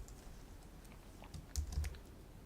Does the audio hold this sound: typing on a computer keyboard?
yes